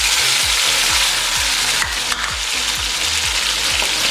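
Two large peeled tomatoes go into a hot frying pan for chicken yakhni pulao, with a loud, steady sizzle and rhythmic scraping stirs repeating about every half second, close and continuous with no voices.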